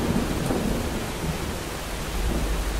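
Loud, continuous thunder rumble with a rain-like hiss in a dinosaur hunting video game on hard mode, a heavy roar that stays steady for the whole stretch.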